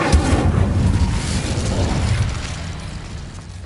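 Incendio fire spell cast in Hogwarts Legacy: a loud, roaring burst of flame that surges at once, rumbles for a couple of seconds, then slowly fades away.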